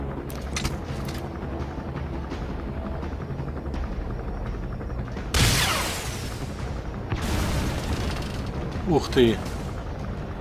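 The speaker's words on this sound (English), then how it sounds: "Support helicopter requested." A support helicopter arrives in the video game Metal Gear Solid V: The Phantom Pain, its heavy rotor thrum rising with loud whooshing bursts and booms over game sound, while a man briefly exclaims.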